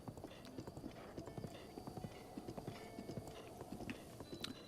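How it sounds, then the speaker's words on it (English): A horse in the Breath of the Wild video game trots with steady clip-clop hoofbeats and a brief whinny, all quiet and continuous with faint background game sound. "Took the stray horse. It's a very good horsey though."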